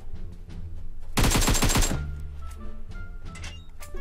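Gunfire from a flare gun in the mobile battle game PUBG Mobile, a loud rapid burst of cracking shots lasting under a second, followed by lighter clicks and handling sounds.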